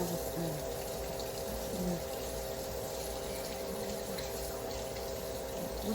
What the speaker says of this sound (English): I'm gonna wash these forks